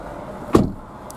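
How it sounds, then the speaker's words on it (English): The door of a 2019 Ford Fiesta ST-Line X shuts with a single close, solid thud, heard from inside the car with quiet cabin hiss before and after. "Jumping inside, we'll close the door."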